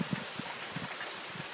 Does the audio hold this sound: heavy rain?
yes